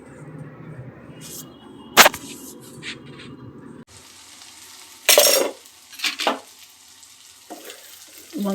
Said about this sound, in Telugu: అప్పుడప్పుడు లిడ్ ఓపెన్ చేస్తూ గరిటెతో వంకాయల్ని కలుపుకుంటూ ఉండాలండి.